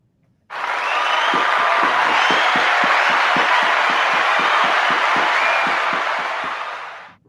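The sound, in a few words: applause sound effect from a soundboard button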